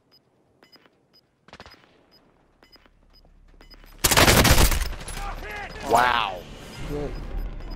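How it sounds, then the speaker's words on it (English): Gunfire from a video game firefight, first as faint distant pops, then a loud sustained burst of rapid shots that sounds close, with excited voices talking over the end of it. "They're doing a firefight in there."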